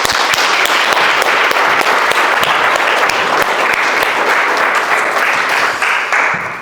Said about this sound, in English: So round of applause for Usman.